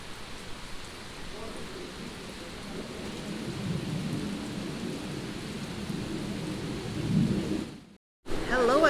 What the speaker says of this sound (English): we are stuck in another rain shower